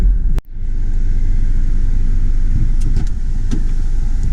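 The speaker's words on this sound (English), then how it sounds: "So just a few minutes into our trip and we are in stop traffic" Car interior on a road trip in stop-and-go traffic, with a loud, steady low rumble of engine and road noise, a brief dropout near the start and faint clicks later.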